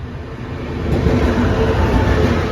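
A Thai express train, the Bangkok–Trang Express 83, rumbles steadily as it rolls into Sam Sen station, a low, continuous roar of wheels and locomotive engine building slightly louder, with no voices.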